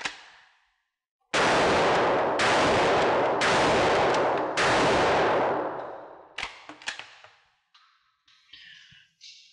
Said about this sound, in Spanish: Vamos a hacer la prueba de la escopeta y vamos a ver qué tal dispara.